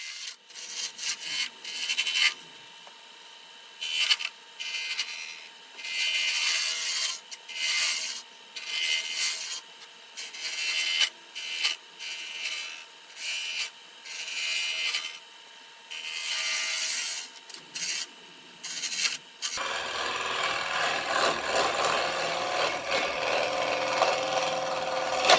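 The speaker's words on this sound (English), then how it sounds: "All of these projects start by turning them round between centers" Scrap wood turned round between centers on a lathe for small tea light holders: a steady scraping, rubbing cut under the gouge, pulsing in short bursts and then growing into a louder continuous roar near the end.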